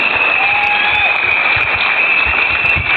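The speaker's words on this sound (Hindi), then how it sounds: "इसके लिए जोरदार तालियां दीजिए" An audience at a New Year's evening event claps steadily throughout, a dense even patter of applause at a constant level.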